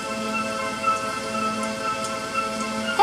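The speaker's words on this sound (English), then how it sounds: "And now it does look like rain" Rain falls steadily in a continuous soft hiss, an even wash of drops with no voices.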